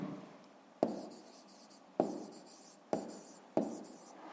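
A pen writes a digit on paper at close range, with four distinct scratchy strokes each starting sharply and fading, heard alone in a quiet room.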